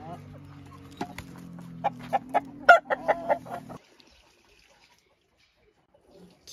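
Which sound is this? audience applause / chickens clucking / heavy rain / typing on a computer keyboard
chickens clucking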